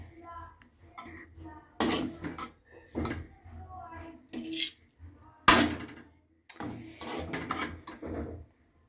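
Kitchen clatter of utensils scraping and tapping against dishes in short bursts while puffed rice laddoos are served onto a plate, with quiet pauses between.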